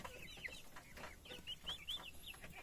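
Turkey chicks peeping in a small flock on a rural farm, a faint, high chirping in quick short bursts close by, with clucking in the background.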